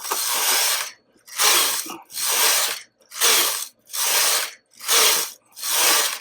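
A flatbed knitting machine knits sock rows with seven back-and-forth carriage passes. Each pass gives a loud, close, hissing mechanical rasp, separated by short silent pauses in a steady rhythm.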